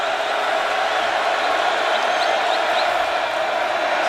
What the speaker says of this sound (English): And the crowd is getting into it here.